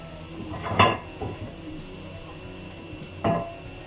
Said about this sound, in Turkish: Böyle sofrasını kuruyorum.